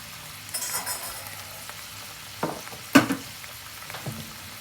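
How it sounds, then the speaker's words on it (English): Butter sizzling in a pan with caramelizing food gives a soft frying hiss broken by a few sharp clinks and scrapes, close and fairly quiet, with no talking. "Now from here, I'm just gonna throw in a little butter."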